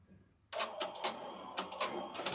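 Embroidery machine laying down a placement stitch on an in-the-hoop zipper bag, starting abruptly after a quiet moment and running as a fast, close mechanical rattle with repeated sharp clicks.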